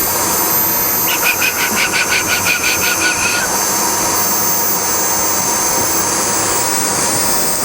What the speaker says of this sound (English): So now we'll just go in and grind them and see what we wind up with.